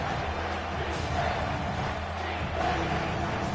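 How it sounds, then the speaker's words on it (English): A football stadium crowd rises and cheers, a dense, steady roar that holds at an even level with no clear peaks. "This crowd rising up"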